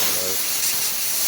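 Compressed air blasts steadily across a powder-coated Toyota Glanza car part to blow off excess powder, a loud, close, continuous hiss.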